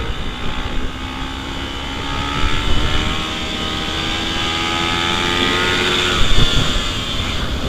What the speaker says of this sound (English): I'm going to have to continue accelerating to keep the bike up.